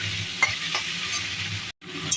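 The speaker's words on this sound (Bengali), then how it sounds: "চিংড়ি মাছগুলো লাল লাল করে ভেজে নেব" Shrimp rubbed with salt and turmeric sizzle steadily in hot oil as they fry until reddish, with a constant close hiss broken by a few light stirring knocks and one brief dropout.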